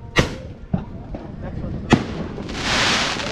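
Several sharp booming cannon blasts ring out on New Year's Eve, each a sudden thump with a crackling tail, followed by a rushing hiss; voices are faintly present.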